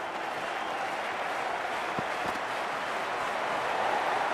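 Cricket stadium crowd in Dhaka during an India versus South Africa match, a steady, dense wash of cheering and applause held at even loudness throughout, with no clear single voice standing out.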